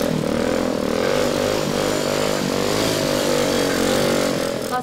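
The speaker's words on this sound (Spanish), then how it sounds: "El stunt es bailar y hacer piruetas con la moto." A stunt motorcycle's engine drones steadily and loudly for several seconds with slight pitch wavering, close by and without speech, fading at the end.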